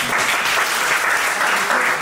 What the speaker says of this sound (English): Can you clap please?